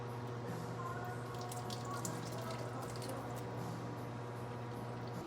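Canned beans poured into a chili pot make a continuous, faint, wet squishing slide with small drips and no clear breaks, over a low steady hum.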